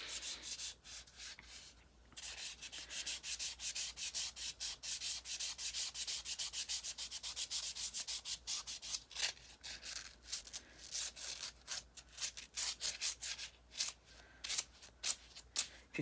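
Small rocks are lightly rubbed together to clean off leftover earth, making close, dry, rapid scraping and grinding strokes in quick repeated bursts, with no talking.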